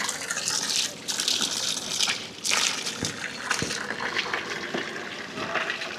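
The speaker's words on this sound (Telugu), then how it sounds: "ఇక్కడ వాటర్ వస్తున్నాయి పైనుంచి, అక్కడ నుంచి వస్తున్నాయండి వాటర్" Water gushes loud and close from a pipe coming down a hillside near the Pamba River on the Sabarimala trek path, a continuous rushing flow with a few surging bursts and no talking.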